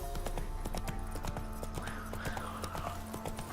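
The horse Roach gallops in The Witcher 3, with rapid, rhythmic hoofbeats pounding steadily throughout at a moderate level beneath faint background game sound.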